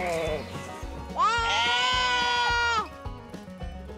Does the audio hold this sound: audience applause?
no